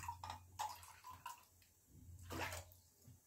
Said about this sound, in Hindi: पानी डाल दिया है